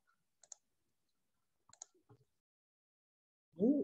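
A computer mouse clicks a few times, sharp isolated taps spaced apart in near silence, before a voice begins at the end.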